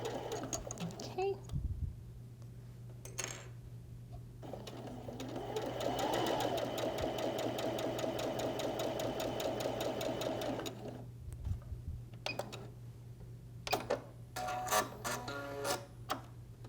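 A sewing machine runs steadily for several seconds, stitching pieced quilt diamonds in a strip-piecing session, its rapid mechanical whirr close and clear, with clicks, handling noises and a voice around it.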